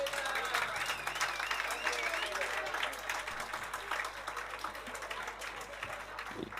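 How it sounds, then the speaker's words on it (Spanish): A festival audience at Ribeiro Son de Viño applauds steadily for a performer, the clapping running throughout at moderate level, with a whistle-like tone and some crowd sound mixed in. "por favor, un aplauso para ella"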